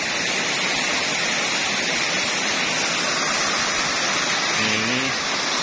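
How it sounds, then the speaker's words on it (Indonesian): Waterfall at the Brumbun tourist village in Madiun, a steady broadband roar of falling water filling the whole stretch, close and loud, with a brief voice-like tone near the end. "Nah, ini air terjunnya luar biasa, beautiful."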